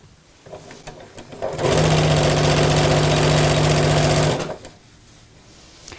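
A sewing machine stitches along a fabric crease line: a close, steady mechanical whirr runs for about three seconds, starting and stopping abruptly between quieter pauses.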